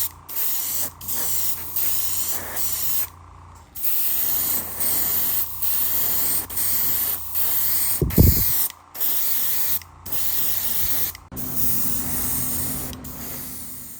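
Primer is sprayed onto a Revell Pontiac Fiero GT scale model in a series of short, loud airbrush or spray-can bursts with brief pauses between, plus one sharper knock partway through.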